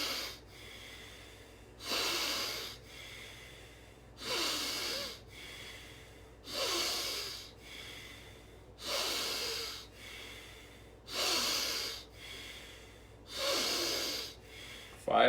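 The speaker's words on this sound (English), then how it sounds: "Deep breathing." Deep, slow breaths in a guided breathing exercise, with seven audible inhales spaced evenly about two seconds apart, close and soft with quiet gaps between.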